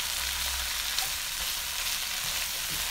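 Vegetables sautéing in a pan before beef is stir-fried, a steady close hiss of sizzling oil with faint crackles and no voices.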